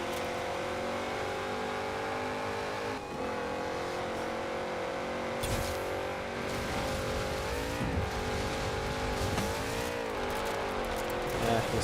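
Cars racing in the Forza Horizon 4 video game, a continuous engine drone with revving and shifting pitch throughout, steady and fairly loud, with a player's voice talking over parts of it.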